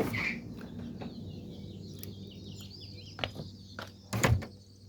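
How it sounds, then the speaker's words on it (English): Birds chirp intermittently outdoors against a steady low background rumble, with a few soft knocks and a louder thump near the end. "Can you hear all those birds?"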